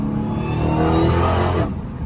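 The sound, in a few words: supercharged car engine whine accelerating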